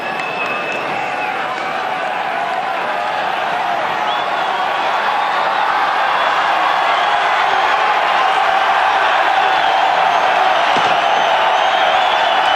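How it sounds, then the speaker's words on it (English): A huge rugby test match crowd in a stadium, Australia against New Zealand in 1998, sends up a sustained, loud roar of anticipation that holds steady and swells slightly throughout, with no clear individual voices. "That tremendous roar of anticipation that highlights every test match"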